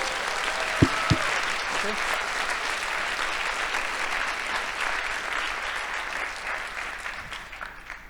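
A conference crowd at a closing keynote breaks into steady, dense clapping that carries on for several seconds, with a brief spoken word near the start.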